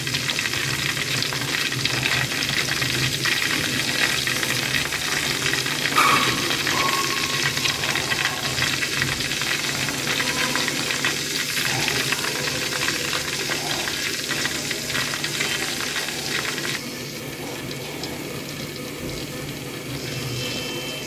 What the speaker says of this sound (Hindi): ऑयल हमारा गर्म हो गया है। अब हम इसमें इस तरीके से बैटर डालेंगे।